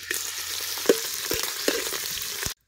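Onion frying in oil in a pan over a village wood-fired stove, a steady close sizzle broken by a few sharp clinks and stirring knocks before it cuts off abruptly.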